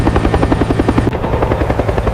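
Helicopter passing overhead during a cold mountain cable-car emergency, a loud steady rhythmic rotor chop with a continuous engine whine, shifting slightly midway as it passes.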